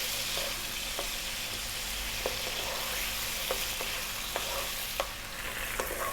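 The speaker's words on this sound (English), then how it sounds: "We're going to fry this on a high heat for about 4 minutes" Beef frying on high heat in a pan for fried rice, a steady close sizzle broken by occasional stirring clicks and scrapes.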